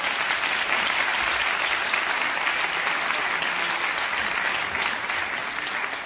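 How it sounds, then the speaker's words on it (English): Sustained applause from a large audience for Haji Qasim Fahad, head of Imam Hussein TV, at a Shia media event; dense, even clapping runs loud and steady throughout, easing slightly near the end. "Give him a round of applause"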